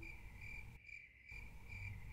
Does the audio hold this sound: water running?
no